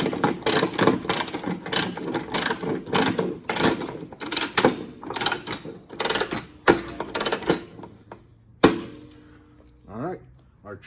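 A ratchet chain binder being ratcheted tight on a trailer chain securing a tracked trencher, giving a fast run of loud, close mechanical clicks and clanks in bursts that slow and thin out toward the end.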